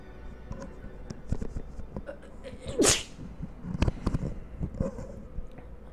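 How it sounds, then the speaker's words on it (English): A Sim sneezes in The Sims 4, a single sharp sneeze near the middle among light game sounds and clicks. "Uh oh, I feel a sneeze."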